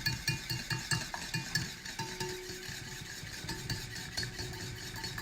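A spoon stirs caramelizing sugar in a pan, scraping in quick rhythmic strokes under a faint sizzle. The strokes are close and clear at first, then soften into steadier bubbling.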